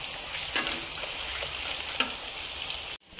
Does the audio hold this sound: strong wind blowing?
no